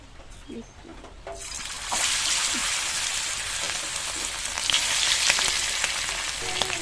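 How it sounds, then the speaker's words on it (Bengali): Chicken pieces, including a large leg piece, drop into hot oil and set off a loud, steady sizzle that swells after a quiet start and crackles continuously, close up, with a few light clinks early on. "তেল গরম হয়ে গেছে। এবার আমি একটা একটা করে ভেজে নেব।"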